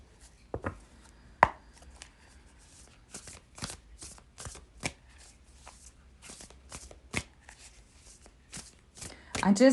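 Oracle cards are shuffled in quick, crisp riffles and taps, close and clear, with a voice talking intermittently over them.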